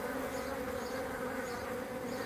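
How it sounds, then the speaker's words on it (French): Honeybee workers and drones buzz steadily in a continuous, dense drone at close range, a beekeeping scene with no talk. "j'espère que vous avez bien pu distinguer les faux bourdons des abeilles"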